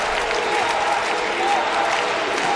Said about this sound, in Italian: e si prende gli applausi del pubblico